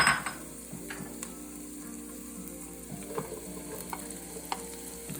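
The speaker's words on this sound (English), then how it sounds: "he's going to stir that around until things start to turn color here" Garlic, mushrooms and browning red onion frying in butter while stirred constantly, a close, low sizzle broken by several utensil scrapes and clinks against the pan, with no voices.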